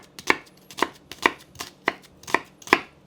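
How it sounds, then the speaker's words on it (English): Knife slicing straight down through medium white onions on a board: six crisp, evenly spaced chops, close and clear with no talk. "So for onions, we're just going to slice straight down,"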